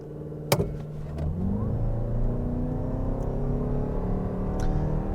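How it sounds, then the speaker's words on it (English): A 2023 Toyota RAV4 Woodland hybrid launches from a brake-torque start and accelerates hard toward 60 mph, its engine note droning and climbing steadily after a sharp initial thump, loud and close with no talking. "And Toyota's hybrid system is very quick to accelerate."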